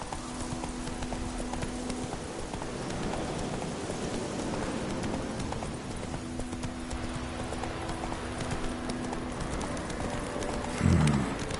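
Roach, the horse in Witcher 3 Wild Hunt, gallops along in a steady, continuous clip-clop of hooves over rainy ambience, with no talk.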